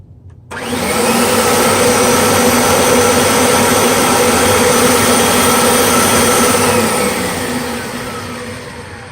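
A Kirby G3 vacuum cleaner with an older-type fan, set to low speed for a suction test, switches on and runs with a loud, steady, close whine and roar, easing slightly near the end.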